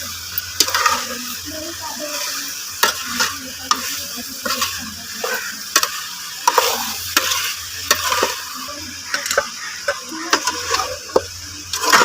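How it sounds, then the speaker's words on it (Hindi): Cauliflower and potato curry is stirred in a pan, a spatula scraping and knocking against the metal in repeated strokes over a continuous loud sizzle and frying hiss. "इधर इसको अच्छे से मिक्स कर लेंगे"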